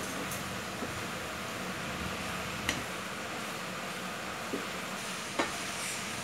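Low, continuous bubbling and hiss of a prawn masala simmering in a pan to reduce its water, with a few faint clinks of a spoon.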